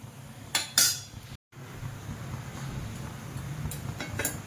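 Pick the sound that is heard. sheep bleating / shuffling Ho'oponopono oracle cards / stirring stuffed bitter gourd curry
stirring stuffed bitter gourd curry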